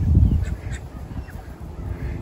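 Call ducks give a few short, close quacking bursts at the start, followed by softer scattered calls over steady background noise, with no talking.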